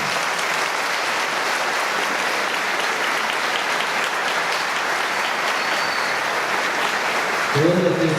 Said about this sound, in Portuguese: Salve de palmas para o Brian.